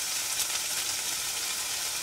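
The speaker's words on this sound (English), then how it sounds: "Melt up some butter real quick." Butter melts and sizzles in a pan inside a van kitchen, a steady close-up frying hiss with no talk over it.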